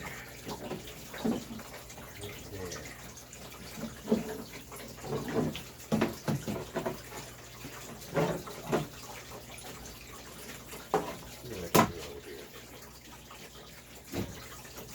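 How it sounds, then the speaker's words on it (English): Water sprays and splashes in irregular bursts over a steady background hum, with a brief spoken remark partway through. "water's going to spray out of this."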